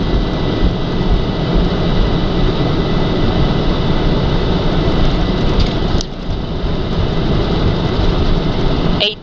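A Boeing 747's jet engines roar steadily during the takeoff roll, heard from inside the cockpit as a loud, continuous broadband rumble with a brief dip partway through, while crew voices come and go over the engine noise.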